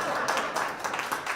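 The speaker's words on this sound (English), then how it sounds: "Men, you are allowed to clap." Audience clapping at a media innovation summit, a short, dense burst of applause from the room lasting just over a second.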